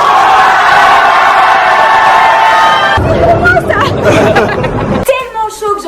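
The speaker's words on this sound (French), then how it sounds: "je voudrais un tonnerre d'applaudissements et de cris pour mademoiselle Jésus" A loud studio crowd cheers, whoops and shouts together, sustained for about three seconds, then breaks into a mixed babble of excited voices and scattered yells.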